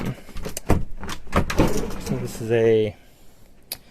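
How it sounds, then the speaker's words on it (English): A keyboard drawer slides out from under a desk with a series of knocks and rattles, then a short grinding slide, heard close up alongside a voice talking. "you can sit on the side of the bed and pull this out as a keyboard drawer"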